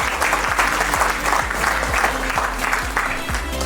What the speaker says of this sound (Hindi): एक पार्टनर दूसरे पार्टनर के लिए जोरदार तालियां जरूर बजाएं।